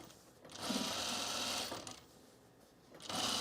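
A sewing machine runs along the top edge of summer pants in two close, steady bursts with a short pause between them.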